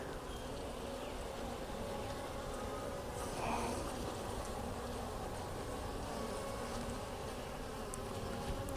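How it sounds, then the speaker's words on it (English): Honeybees hum in a dense, continuous buzz inside their hive, close and steady, with individual insects droning past now and then. "And now I can hear they're really buzzing"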